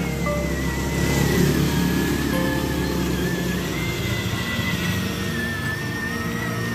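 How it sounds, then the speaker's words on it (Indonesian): A motorcycle passes nearby on a narrow road, its engine hum rising and fading over a steady close rumble from a child's battery-powered ride-on car with rubber-lined tires. "awas motor awas motor minggir"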